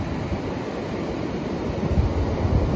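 Ocean waves surging at a beach, a constant rushing wash of surf with a swell building louder near the end, heard alone without voices.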